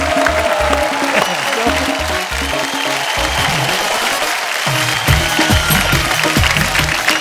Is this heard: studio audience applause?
yes